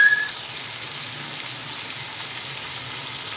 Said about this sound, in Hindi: अब हम इसमें ज़ीरा डालेंगे।